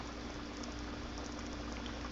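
Breakfast bubbles in a pan on a stovetop, a faint, continuous sizzling and simmering hiss with no talk over it.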